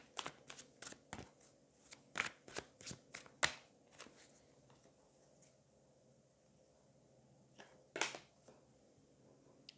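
Tarot cards are shuffled and drawn, giving a run of sharp, close riffling snaps and flicks in quick bursts. A quieter stretch follows before one last crisp card snap near the end.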